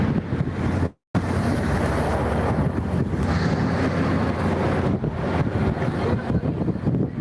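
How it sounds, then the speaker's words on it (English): Steady low rumble of a river boat's engine with wind buffeting the microphone and water wash, continuous and fairly loud, with one brief dropout near the start. "Let's go listen to the boat."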